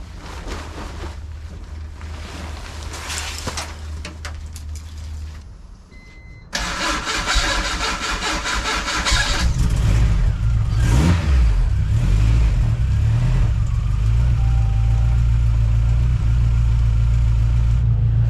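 A Honda CRX engine cranks and catches, then settles into a steady, loud idle as it warms up, the rumble growing heavier after the start and holding close by for the rest of the clip.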